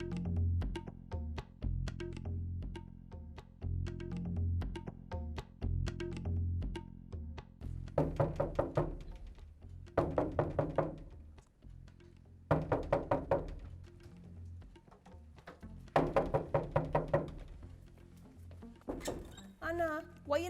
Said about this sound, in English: why you knocking down my door?